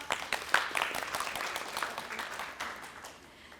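A room at a women's empowerment conference gives a participant a round of applause, scattered claps from a small group, fairly faint and thinning out toward the end.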